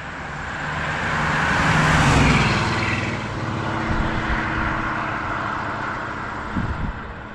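A 1956 Pontiac Chieftain engine revs up to a loud swell and settles into a steady rumbling exhaust with broad roaring noise, heard alone and up close.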